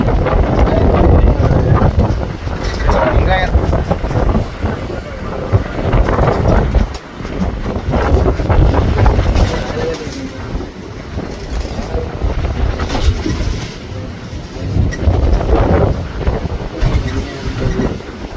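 A fishing boat at sea is caught in a storm, with strong wind buffeting the microphone as a loud rumbling roar that surges and drops in gusts, joined by engine and water noise.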